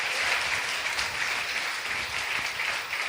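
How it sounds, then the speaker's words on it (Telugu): A church congregation at a Sunday morning service claps loudly and continuously, a dense, even wash of many hands with no talking. "గట్టిగా చప్పట్లు కొట్టి, ఏసయ్యా నీకు స్తోత్రం అని చెప్పండి."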